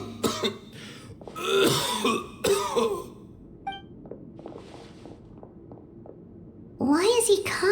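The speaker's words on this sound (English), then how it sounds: "Why is he coughing so much?" A character in the video game Genshin Impact coughs and clears his throat in several harsh bursts up close, with game sound effects and brief voice sounds between them.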